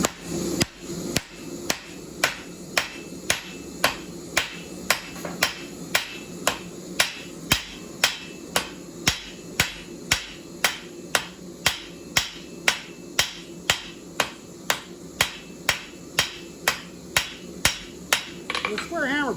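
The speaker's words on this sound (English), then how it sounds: "The square hammer blow" Steady, evenly spaced square hammer blows on hot steel, about thirty sharp blows ringing out one after another at a brisk, regular pace, close and loud.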